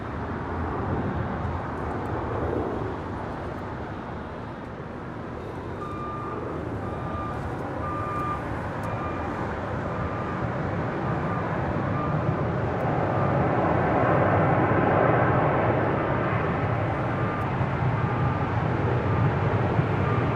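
An American Airlines Boeing 787-8 Dreamliner, arriving from Miami on short final for runway 25 left at LAX, roars as a broad, steady jet rumble that gradually swells louder as the aircraft approaches, with a faint high tone over it.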